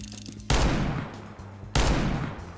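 Two loud, sharp gunshots from the CS:GO video game ring out about a second apart, each trailing off in a rumbling decay.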